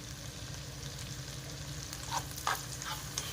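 Ham frying in butter in a pan gives a steady soft sizzle, with a few brief scraping stirs and clicks toward the end.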